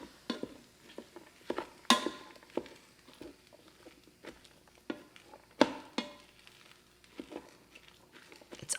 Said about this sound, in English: to sort of mix up this meat and get it on the bottom so we can get it to saute